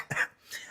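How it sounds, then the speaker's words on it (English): A person with a lingering tickly cough gives a single short, fairly close cough followed by a softer throat-clearing sound, with no talk around it. "Still got this horrible cough."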